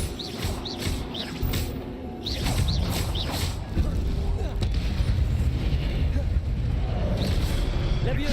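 Spell effects from a Harry Potter video game, including the Incendio fire spell, come as a dense run of booming, crackling bursts mixed with other magical sounds.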